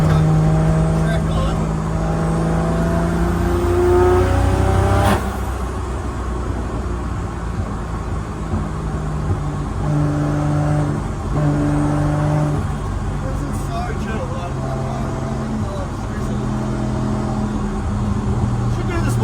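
A Nissan R32 drift car with an RB25DET engine drives on the street, its engine droning and revving up and down in steady pulls, with speech heard over the motor noise.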